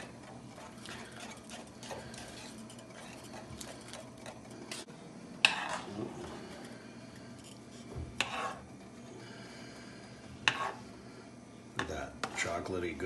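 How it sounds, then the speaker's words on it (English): A whisk rattles and clinks rapidly against a pot as champurrado thickened with Sakura short grain rice is stirred, a close, busy metallic patter with a few louder knocks, under occasional talk. "we are whisking this champoladu, and that rice is like, oh, give me some more"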